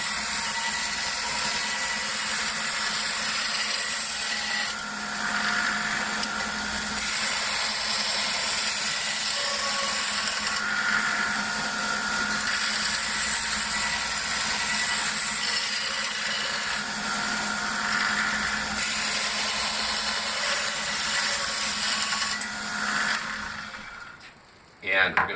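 Knife being polished on a belt sharpener charged with white rouge, giving a steady continuous whirring abrasive hum with faint pulsing strokes, close and fairly loud, running evenly before stopping near the end.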